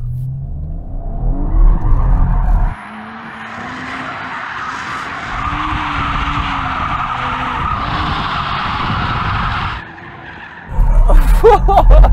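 An Audi RS4 spinning donuts gives a loud, sustained tyre squeal and skid over a revving engine. The engine roar surges near the start and again at the end.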